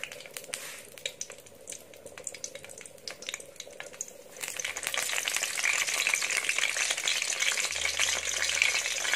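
Pork hock frying in oil for adobo, starting with scattered crackles and spatters, then building into a loud, dense, continuous sizzle with popping oil.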